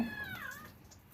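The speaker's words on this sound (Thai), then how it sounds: "ได้ยินเสียงลูกแมวร้องไหม ที่ช่างกำลังเป่าขนให้กับน้องนะ" A kitten at a pet grooming salon mews once, thin and plaintive, while being blow-dried, the cry rising and bending over a steady low dryer hiss.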